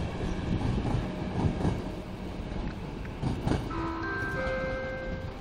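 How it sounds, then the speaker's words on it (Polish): An EP09 electric locomotive hauling the EuroCity Praha train rumbles and rattles steadily out of Warszawa Wschodnia station, and near the end a few sustained tonal squeals or chimes ring out over the noise. "pociąg Eurocity Praha ze stacji Warszawa Wschodnia do stacji Praga"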